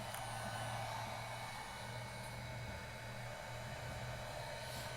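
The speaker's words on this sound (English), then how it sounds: "let's turn my heat gun on. And I got the heat gun on a low setting." Faint, steady whoosh of a heat gun running on its low setting, used while fitting a carbon fiber headlight overlay on a 2020 Subaru WRX; a continuous airy blower hum with a low motor tone and no talk.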